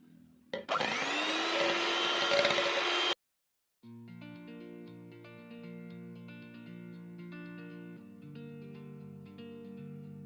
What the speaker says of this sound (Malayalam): ഇതും കൂടെ നന്നായിട്ടൊന്ന് ആദ്യം ബീറ്റ് ചെയ്തെടുക്കാം